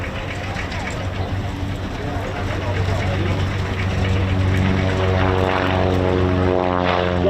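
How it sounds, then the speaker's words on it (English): A SIAI-Marchetti SF-260 propeller aircraft on its take-off roll at an airshow, a loud steady engine drone with a rising propeller note building toward the end. "On the roll now, the Side Marchetti"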